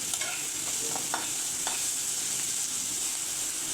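Onion and tomato frying together in a pan for a hilsa fish dish, stirred steadily with a spatula; soft scraping strokes over a constant close sizzle, with no talking.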